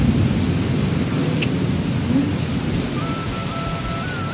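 Heavy rain pours down steadily during a thunderstorm, a loud, close wash of drops with low thunder rumbling underneath and no voices.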